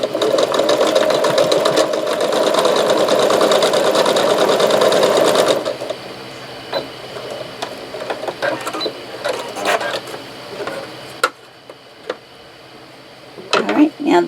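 Sewing machine stitching quilt pieces together, a fast steady mechanical chatter running loud and close for several seconds before stopping, followed by quieter handling clicks and rustles.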